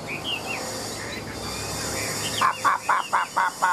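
A tamed wild songbird in a cage calls during a bird fight, giving a few high chirps followed by a quick run of five or six loud, sharp, rhythmic notes. The bird sounds close, over soft background noise.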